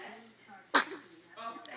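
One sharp, sudden sneeze bursts out close by mid-clip. Soft background voices murmur before and after it in a quiet home.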